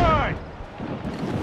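Ship cannons fire during a naval battle in Assassin's Creed Rogue, a shouted voice leading into a broad, rumbling roar of blasts that fills the rest of the moment.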